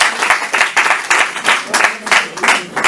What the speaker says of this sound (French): On peut applaudir maman.